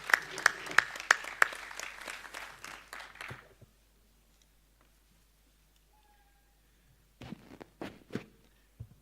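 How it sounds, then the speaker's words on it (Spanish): Audience applause for a speaker at a dialogue session of governors and local leaders: sharp, close claps over a steady crowd patter for several seconds, then silence, followed by a few scattered claps and knocks. "Un fuerte aplauso, por favor"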